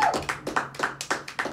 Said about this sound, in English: Can we get a round of applause for these guys in the back?